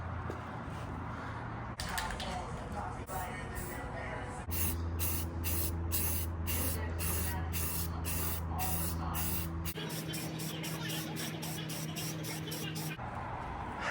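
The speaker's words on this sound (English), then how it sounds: "we're ready to hit it with first coat of primer" Spray primer hisses from a rattle can onto a Nissan 240SX body in a series of short bursts, some longer sweeps and a quick run of rapid pulses near the end, close and fairly loud with faint background hum.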